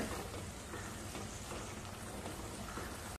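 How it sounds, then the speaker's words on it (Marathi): Ground masala fries in hot oil until the oil separates, giving a steady, dense sizzle and crackle that runs evenly throughout without pause or voices. "सगळा मसाला चांगला 2 मिनिटं तेल सुटेपर्यंत परतवून घ्यायचा"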